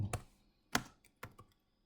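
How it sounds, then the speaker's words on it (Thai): A few keystrokes on a computer keyboard: three or four distinct, fairly close taps spaced unevenly, with no talking. "ผมพิมพ์เพิ่มเข้าไปนะครับผม"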